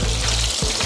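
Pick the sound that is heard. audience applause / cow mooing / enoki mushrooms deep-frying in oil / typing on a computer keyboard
enoki mushrooms deep-frying in oil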